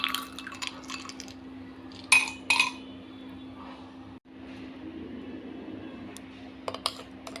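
Ice cubes are dropped into a glass for homemade cold coffee, giving a couple of brief, bright clinks over a quiet, low hum.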